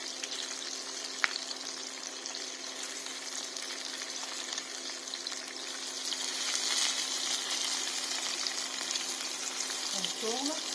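Sardines with ginger sizzle and fry steadily in a pan, a continuous bright crackle that swells slightly midway, with a brief clink near the start and a faint voice at the end.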